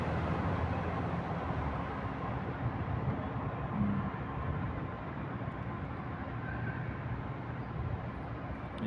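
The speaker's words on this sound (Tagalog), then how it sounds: "may dumadaan ng mga sasakyan" Vehicles pass by on a road outside, producing a continuous low broadband rumble and road noise at a moderate distance, with no talking.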